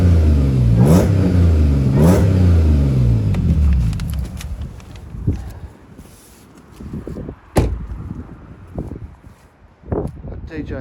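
An Audi S4 Avant with the 3.0 TFSI V6 petrol engine and S tronic quattro drivetrain revs loudly up close in two quick, rising bursts. The engine then drops to a lower, uneven note, broken by sharp clunks and short mechanical knocks.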